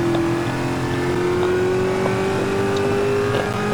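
A Moonhawk car engine drones steadily while being driven in a video game, a continuous close hum with a gently rising pitch, no voices, throughout.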